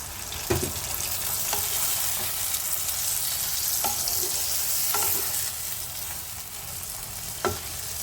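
Mixed vegetables with matar dal fritters sizzle and fry steadily in a pan, loud and close. A few sharp stirring clinks punctuate the sizzle, and there is no talk.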